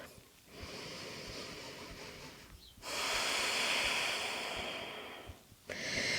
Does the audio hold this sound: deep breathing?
yes